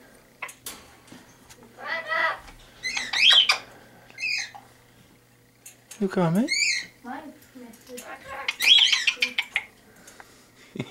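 A wound-up Amazon parrot lets out loud, harsh squawks in several bursts, alone and close, while a person talks softly between the calls.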